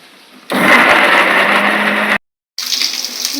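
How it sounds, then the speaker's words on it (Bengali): A mixer grinder blends chillies, tomatoes and melon seeds in a loud, steady roar for about two seconds, then stops briefly and restarts at lower level. "যে যেমন ঝাল খেতে পারে সেই পরিমাণ লঙ্কা আর টমেটো, 2 চা চামচ মগজ দানা দিয়ে মিক্সি করে নেব।"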